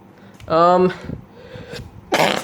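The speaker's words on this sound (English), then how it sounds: "sorry there, excuse me, I just sneezed" A single abrupt, voiced sneeze bursts out up close, followed by a sharp exhale, with a moment of quiet between them.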